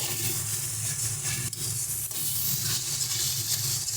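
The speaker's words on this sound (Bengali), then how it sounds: "তো চলো ভালো করে সমস্ত মশলাগুলোকে কষিয়ে নিচ্ছি" Spices sautéing in oil for a Bengali rita fish curry with tomato, a steady, close, dense sizzle that hisses continuously throughout, with faint stirring scrapes underneath.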